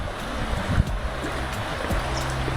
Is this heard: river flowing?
yes